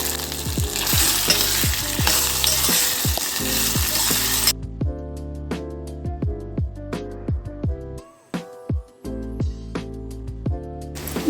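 Potato pieces sizzle and fry in a pan for upvas ghavan, a steady crackle broken by repeated scraping stirs, growing quieter partway through with a brief near-silence before the frying resumes.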